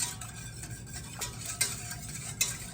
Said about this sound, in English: I am going to mix those together so the sugar dissolves.